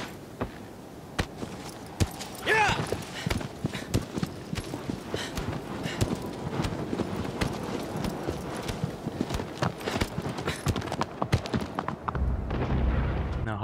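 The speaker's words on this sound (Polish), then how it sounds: "Cały czas X-em chcę popędzać konia." Horse galloping in the Shadow of the Colossus video game on PS4 Pro, a steady run of hoofbeats carrying through the whole stretch, fairly loud and close, with some rumbling game sounds and scattered bangs mixed in.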